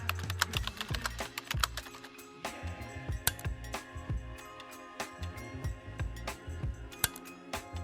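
Rapid clicking keystrokes on a computer keyboard come in bursts with short pauses, close and fairly quiet, as text is typed into a search box on a trading platform.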